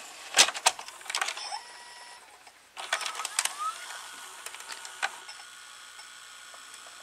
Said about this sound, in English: Here's the loading motor.